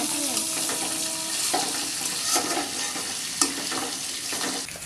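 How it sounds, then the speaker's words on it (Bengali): Green chillies stirred in a hot frying pan sizzle steadily up close, with periodic scraping strokes of a spatula against the pan and no talking. "কাঁচামরিচ দিয়ে হালকা নেড়ে ছেড়ে নেবো"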